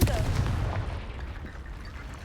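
A Confringo fire spell blasts in Hogwarts Legacy, a loud burst at the start that fades into a rumbling decay over about two seconds.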